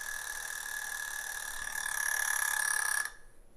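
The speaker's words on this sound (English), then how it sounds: "this timer is going to go, and it is a little bit scary" A timer alarm in a smart home setup rings as a steady, loud electronic tone for about three seconds, then cuts off abruptly, leaving quiet room noise.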